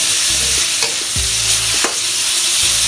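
Napa cabbage and pork stir-fried in a pan, steady sizzling with repeated scraping strokes of a spatula, close and alone without talk.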